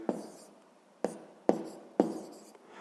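A pen writing out a math answer on paper: four quick scratchy strokes with short gaps, close and quiet with no voices.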